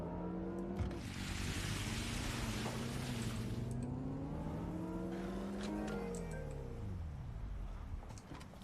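Car engine in Watch Dogs: Legion drives steadily, its harmonic drone rising and falling as it revs and shifts gears, with a brief broadband rush early on; continuous and fairly close, with no talking.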